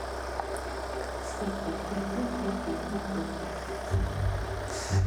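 A 2021 Hyundai Santa Fe SUV moving under remote-controlled parking gives off a low, steady engine hum close by, swelling into a louder rumble near the end.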